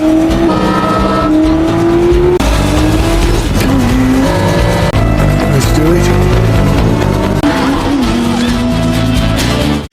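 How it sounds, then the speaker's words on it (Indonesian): A race car engine revs hard during a film's racing sequence, its pitch climbing and dropping with the gear changes. The roar is loud and continuous, with brief tire squeal mixed in. "Ken pun langsung menggeber mobilnya tersebut"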